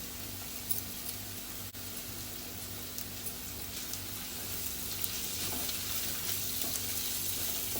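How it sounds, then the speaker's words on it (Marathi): Bitter gourd sautéing in hot oil with turmeric, a steady soft sizzle and crackle that holds an even level throughout with no voices. "तेलावरती चांगली परतून घ्यायचे"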